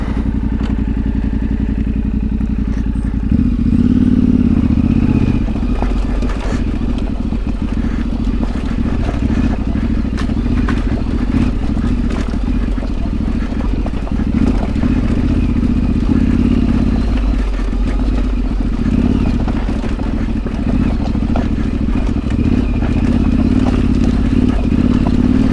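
Yamaha Tenere 700 motorcycle riding over a rough, muddy alpine trail, its engine droning steadily with throttle swells and clattering, scraping knocks from the bike and terrain, close and loud throughout.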